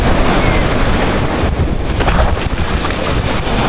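A fiberglass boat with twin engines runs on open water. A loud, steady rush of wind and water fills the whole stretch, with the motor drone buried in the broadband noise.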